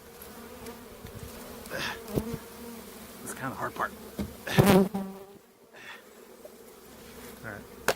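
Italian honey bees pour out of a package box and buzz in a dense swarm, close and moderately loud, as a soft voice talks briefly over the humming and a few thuds and knocks sound against the box.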